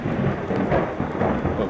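Loud thunder rumbles outside, a deep rolling boom with rain noise, filling the whole moment without any talking.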